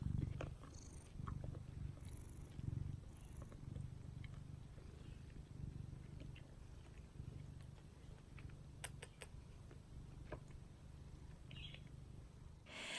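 Steady, low cat purring continues close by for the whole stretch, a soft rumbling hum with faint chirps now and then.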